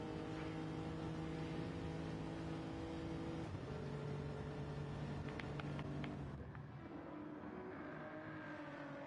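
A Lamborghini Murcielago racing a Supra in a racing video game, heard from the cockpit as a steady, loud engine drone with a brief gear-change dip, then a softer, lower tone near the end.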